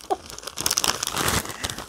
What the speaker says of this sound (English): Okay, let's open it. Crinkling.